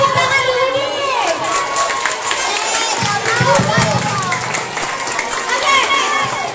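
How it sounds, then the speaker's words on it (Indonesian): Cheering and clapping rise from a crowd of students at a dental and oral health education session, a dense, lively wash of claps and shouts held steady throughout, with voices mixed in. "Beri tepuk tangan dulu nih."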